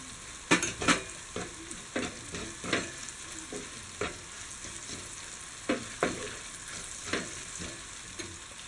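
Capsicum and spices, including turmeric, frying in a pan for a cauliflower masala, with a steady low sizzle broken by repeated scraping stirs of a spoon against the pan at an irregular pace; no one speaks.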